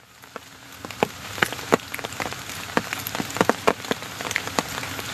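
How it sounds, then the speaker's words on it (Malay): Rain falling and pattering on a nearby surface at night, with scattered sharp drops and drips landing irregularly over a soft continuous hiss, no voices heard. "Sekarang masih hujan. Masih hujan."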